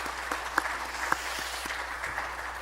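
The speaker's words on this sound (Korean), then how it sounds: "우리 뜨겁게 박수하겠습니다." A church congregation at a Wednesday worship service applauds steadily, a dense wash of clapping from many hands throughout, with a few sharper claps standing out near the front.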